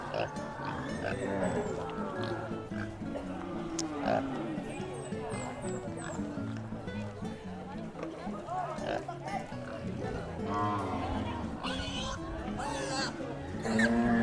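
Pigs on a Philippine farm grunt and oink in the early morning, a busy mix of snorts and squeals heard over steady talk from people nearby.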